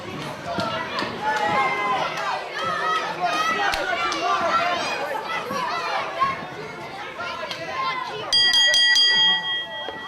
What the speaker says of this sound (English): the bell has officially sounded, we are underway